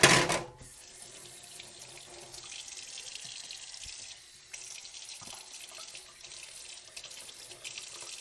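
Tap water runs steadily into a kitchen sink, a close and constant hiss that starts after a short loud splash and keeps going with small changes in flow.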